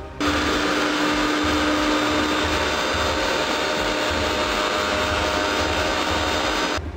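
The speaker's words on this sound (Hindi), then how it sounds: "इसको अच्छे से मिक्सी में चला लेंगे।" A mixer grinder whirs loudly and steadily throughout, blending jamun fruit pulp with mint leaves, its motor droning without pause.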